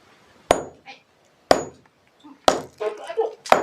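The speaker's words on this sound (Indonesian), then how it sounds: "Kita dulu nih harus pakai palu nih." Sharp metallic hammer strikes while digging into ground, four loud evenly spaced blows about a second apart, each ringing briefly, with faint scraping and quiet voices between hits.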